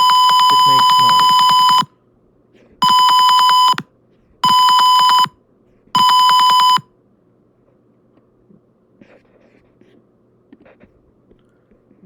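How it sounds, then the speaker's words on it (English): A gas sensor alarm sounds as smoke is brought close, giving four loud, steady electronic beeps in separate bursts, the first one longer, followed by quiet room background. "But when the smoke is coming closer, it makes noise."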